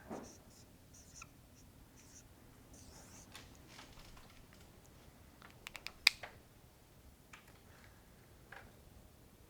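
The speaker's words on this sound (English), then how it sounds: "I want to see everything written down, please." Pencils scratching on paper as honors students write out math steps in a classroom, faint scattered strokes with a few sharper ticks and taps, quiet room with no talk.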